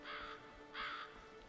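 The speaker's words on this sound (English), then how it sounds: "That sound that you heard, the cawing, would be a crow." In the video game Skyrim, a crow caws twice in quick succession, two harsh, evenly spaced calls heard faintly at a distance over a low steady background hum.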